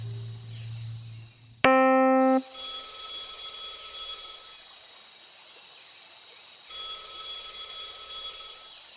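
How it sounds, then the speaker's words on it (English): A telephone rings in a space where the sound echoes, with a sharp tonal blast followed by repeated high electronic trills, pausing and then resuming. "Phone's ringing."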